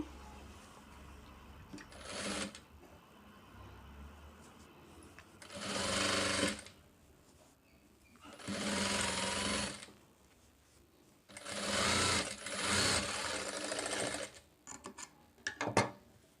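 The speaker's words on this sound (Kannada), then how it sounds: "ಈಗ ಈ 3 ಪೀಸ್ನ ಈ ರೀತಿ ಇಟ್ಕೊಂಡು ಇದ್ರ ಮೇಲೆ ಒಂದು ಸ್ಟಿಚ್ ಹಾಕ್ಕೋಬೇಕು" A sewing machine stitches katori blouse pieces in several separate runs of steady mechanical whirring, each a few seconds long with quiet pauses between, moderately close over a low background.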